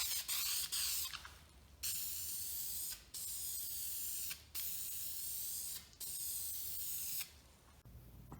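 Primer sprayed from an aerosol can onto a black wheel with curb rash, a final coat laid down in five long hissing bursts separated by short pauses; no talk.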